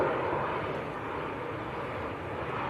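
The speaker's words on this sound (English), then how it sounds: "Airbus A320." An EasyJet Airbus A320 airliner rumbles at Manchester Airport, a broad, steady engine roar that fades slightly over a few seconds.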